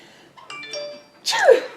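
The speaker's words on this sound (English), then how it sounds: "I've got to sneeze." A single sharp sneeze bursts out near the end, close and fairly loud, after a few faint indoor sounds.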